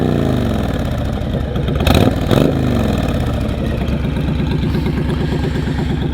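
A fully warmed-up 2006 Honda VTX1300 motorcycle engine runs loud and close with a deep, steady, throbbing idle and a brief rev partway through.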